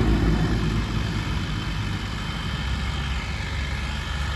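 A 360 tractor engine, recently worked on by a mechanic, runs loud and close with a steady low, rumbling drone and no voices.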